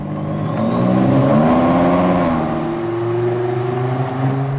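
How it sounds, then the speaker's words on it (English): A 2.5-litre turbocharged five-cylinder petrol engine in an Audi RS3 Competition Limited revs steadily, its harmonics rising then settling in a continuous loud, close drone with no talking. "that is the firing order of the 5-cylinder engine, and that's what gives it its signature sound"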